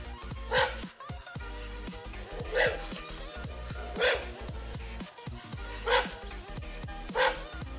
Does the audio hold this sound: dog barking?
yes